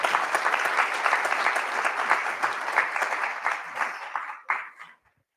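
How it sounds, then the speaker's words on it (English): An audience applauds MP Tim Roca as he is welcomed up, a dense, steady wash of clapping that holds for several seconds before thinning out and stopping. "I think he deserves an applause."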